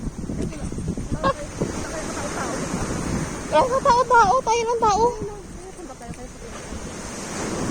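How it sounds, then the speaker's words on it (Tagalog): Broad roar of crashing surf on an Iloilo beach with gusty wind buffeting the microphone, while people talk over it and a sharp honking call rises briefly midway. "Grabe ang alon, oh."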